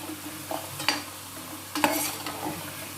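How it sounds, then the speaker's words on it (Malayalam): Ragi murukku frying in hot oil and being turned, a soft sizzle underneath a few brief scraping stirs of a utensil, close and fairly quiet, no voices. "ഇപ്പോൾ ഇത്തിരി നേരമായില്ലേ, അപ്പം ഇതൊന്ന് ജസ്റ്റ് ഇളക്കി മറക്കുക"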